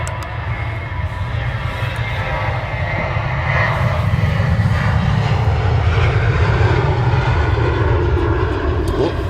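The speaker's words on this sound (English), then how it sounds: "Late rotation there from the Ryanair." A Ryanair jet airliner takes off at Manchester Airport, its engines producing a loud, sustained roar that builds slightly and holds throughout, heard from a distance outdoors.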